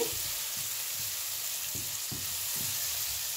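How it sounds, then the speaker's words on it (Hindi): Ground coriander, cumin and salt stirred in a hot frying pan: a steady, even sizzle with soft, regular scraping strokes from the spoon, close and alone with no voices. "अब इसे अच्छी तरह से हिलाएंगे।"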